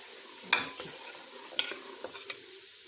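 Homemade desi ghee in a pan with the heat just switched off gives faint, sparse sizzles and a few soft stirring scrapes, two sharper clinks standing out against near quiet.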